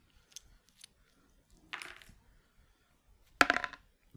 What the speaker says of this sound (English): I also get to roll the brownish die